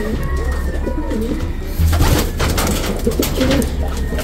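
Homing pigeons coo in a breeder's loft, with low, throaty rolling calls repeating close by over a steady background hum and some faint rustling.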